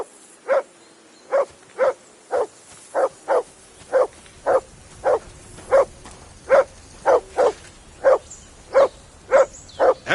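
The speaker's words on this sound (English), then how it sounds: "Whistle at that mutt of yours to stop barking!" A dog in the medieval video game Kingdom Come 2 barks in a long, regular series of about twenty sharp, loud barks, evenly spaced and close, with no talk over them.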